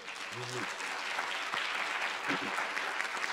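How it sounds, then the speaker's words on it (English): Audience applause for Nicholas Kristof at a Gatton College event, a steady wash of many hands clapping throughout, with a brief voice or two heard faintly within the crowd noise. "please join me in another round of applause to show our appreciation for Nicholas Kristof"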